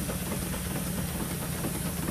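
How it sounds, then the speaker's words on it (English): A single-cylinder, 7 horsepower Clayton & Shuttleworth traction engine burning coal runs steadily nearby, a continuous low mechanical hum with faint hiss and a soft rhythmic chuff throughout. "This engine is the oldest surviving Clayton Shuttleworth engine in the world, still working."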